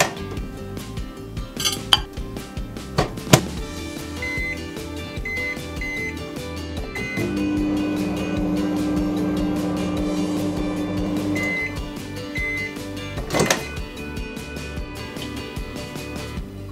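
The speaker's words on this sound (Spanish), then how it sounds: "la vamos a meter al microondas para calentarlo hasta que se disuelva completamente" A microwave oven heats a saturated solution for a home fire-writing experiment, giving a steady hum of about four seconds between bursts of clinking dishes and utensils.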